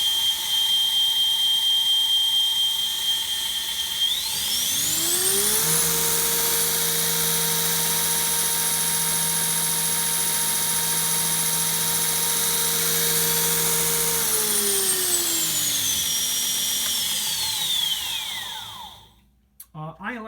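A Northridge belt grinder driven by a Baldor 2-horsepower motor spins up with a rising whine and holds a loud, steady hum. It then winds down with a falling pitch to near silence.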